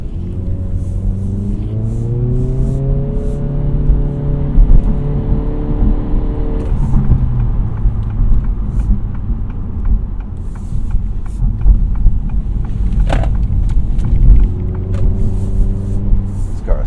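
Honda Integra with a CVT pulling away under throttle, its engine note rising in smooth steady sweeps, easing off, then climbing again later, heard from inside the cabin with road and wind noise underneath.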